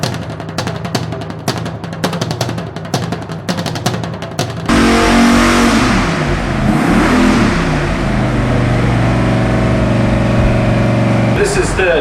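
An all-aluminium 572 cubic inch twin-turbo Chrysler Hemi engine blips through rapid, choppy revs, then settles into a loud, steady roar close by, with voices talking over it.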